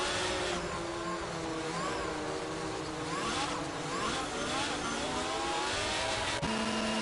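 Race cars accelerating off the start line at Miami in a racing video game, a dense layered whine of engines revving and climbing in pitch together, loud and continuous under a commentator's voice.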